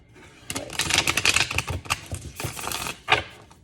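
A deck of tarot cards is shuffled close by, a rapid burst of riffling, flapping card noise lasting a few seconds with a final slap, no talk.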